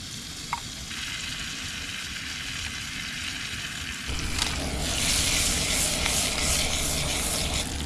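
Onion being cleavered into a hot pan of butter, crackling softly at first and then jumping to a loud, steady sizzle about halfway through, with an occasional scrape as it settles in.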